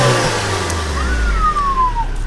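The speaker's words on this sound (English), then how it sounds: "Is that a turbo I hear, sir?" A tuned 2003 Honda Civic VTEC engine revs up close and loud, with a rising whine that sweeps upward and then slowly falls, over about two seconds.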